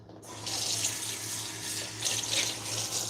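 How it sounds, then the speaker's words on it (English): Running kitchen tap water splashes steadily into a sink while something is rinsed under the stream, a continuous close hiss with slight surges, no talking over it. "let me rinse this out."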